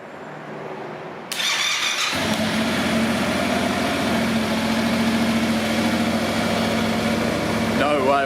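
A wrecked Yamaha MT-07 motorcycle cranks over and fires, its engine catching after a brief starter whir and settling into a loud, steady idle close by.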